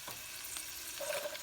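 Vegetables stir-frying in oil in a pan over low-medium heat, a steady close sizzle with faint scraping of stirring, no talk.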